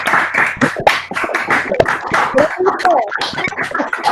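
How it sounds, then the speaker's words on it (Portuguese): Participants clapping for professor Carlos Etchevarne at the close of an online research dialogue, uneven overlapping claps from several open microphones mixed with talk and chatter. "por favor, aplaudam o professor Etchevarne"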